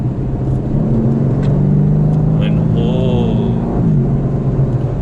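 Aston Martin DB11 V8 switched into sport mode, a steady low engine drone with a rising harmonic as revs build, heard from inside the car with a voice talking over it.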